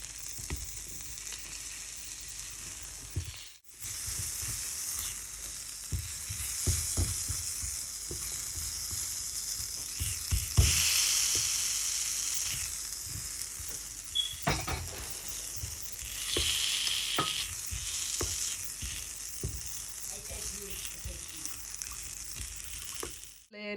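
Brown shrimp sizzle and crackle steadily in a hot frying pan, a continuous bright hiss with occasional stirring clinks and a brief pause early on.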